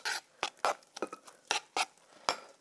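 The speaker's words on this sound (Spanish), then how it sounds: "Vamos a mezclar bien." A utensil stirs tomato pulp and chopped spring onion in a bowl, giving about eight sharp scraping clinks at an uneven rhythm, close and moderately loud, with no talk.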